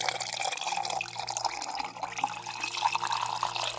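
Liquid, likely rum, poured steadily into a container, a soft continuous trickle with light splashing under a constant hum from a lawnmower running outside.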